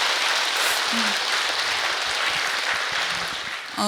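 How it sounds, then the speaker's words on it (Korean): Dense, steady clapping from a large crowd at a Buddhist temple ceremony fills the whole stretch, a continuous broadband patter with no pauses, loud and close. "우리 큰 박수 한번 부탁드리겠습니다"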